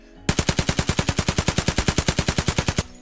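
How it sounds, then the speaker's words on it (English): A cheap UMP gun build fires in Escape From Tarkov as one long, loud full-auto burst of about twenty-five rapid, evenly spaced shots, cutting off abruptly with no talking. "When I shoot this guy, let's see if this is on single fire"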